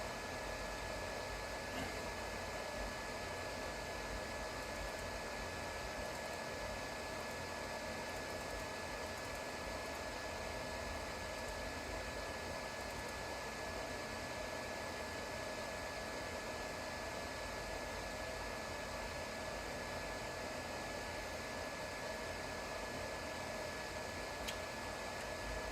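A CNC machine runs with a steady, even whirring hiss that holds unchanged throughout, fairly faint and constant, with no talk over it.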